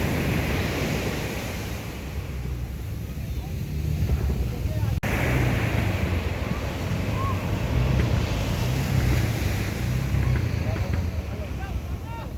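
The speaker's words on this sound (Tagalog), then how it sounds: "Sunod-sunod na pagkalalaking alon, no?" Big ocean waves surge around a small boat at sea, a loud rolling roar with heavy wind buffeting the microphone throughout and a sharp knock midway.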